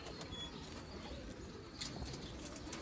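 Sialkoti breeder pigeons give faint, low cooing over a steady background hiss, quiet and continuous with no voices.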